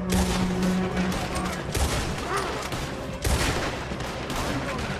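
Gunfire in a Red Dead Redemption 2 firefight, rapid overlapping shots in dense volleys, loud and close, with a few heavier bursts standing out and faint voices mixed beneath.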